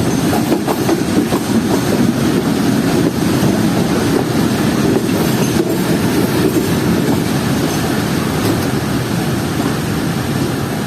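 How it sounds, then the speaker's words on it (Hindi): Rawal Express pulling out of Chaklala railway station rumbles loudly and continuously from inside a carriage, with rhythmic wheel clatter and rushing wind over a deep, steady roar. "ट्रेन निकल रही है चकलाला रेलवे स्टेशन से"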